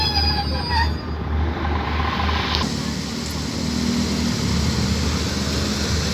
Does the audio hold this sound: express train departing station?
yes